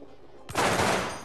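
A pistol firing in the video game Receiver, one sudden loud blast that rolls into a dense burst of rapid shots and dies away quickly.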